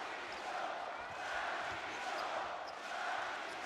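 Steady roar of a basketball arena crowd at a World Cup qualifier against China, a broad continuous cheer that swells and dips, with faint commentary voices beneath.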